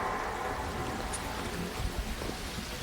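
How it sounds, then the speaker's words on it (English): Rain falls steadily in the video game PUBG, a dense, even hiss of drops with a faint low rumble underneath, constant throughout and with no voices. "The trees sway disproportionately with the rain."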